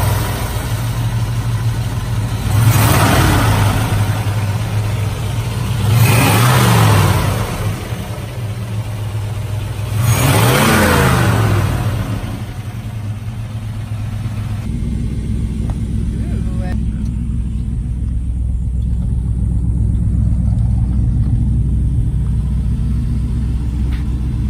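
A restored 1954 Mercury Monterey convertible cranks and fires, three surging revs rising over a steady low rumble before settling into a continuous idle.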